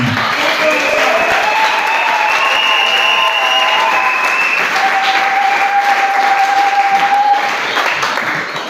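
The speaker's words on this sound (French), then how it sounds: "vous pouvez acclamer pour vous-même" Wedding guests applaud and cheer in a sustained, dense round of clapping that stays loud and steady throughout, with a few whistles or calls rising above it.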